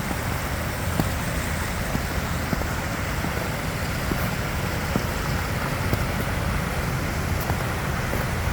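Small outdoor waterfall in a Delta County area giving a constant, broadband rushing wash of water, steady and fairly close, with no voices.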